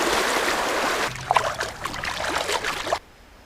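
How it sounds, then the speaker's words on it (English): Flowing creek water on a Michigan smallmouth bass fishing spot, a steady broadband rush with small splashes and trickles throughout, close by, then cutting off near the end. "I love creeks."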